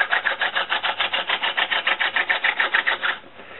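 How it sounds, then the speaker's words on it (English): A hand-turned flint drill grinds stone on stone into blue slate in a quick, regular rasping rhythm of about twenty close strokes, which stops near the end. "it really doesn't take long for this drill to cut down through the stone"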